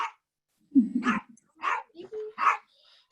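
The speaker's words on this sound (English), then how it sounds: "She's barking like a crazy person." A little dog barks in a house as people leave, giving a few sharp high yaps and a whimper in quick bursts, mixed with people talking nearby.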